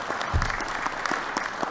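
An audience at a Hartford city budget hearing claps for volunteer firefighters, a short burst of dense scattered handclaps nearby, with a faint voice underneath.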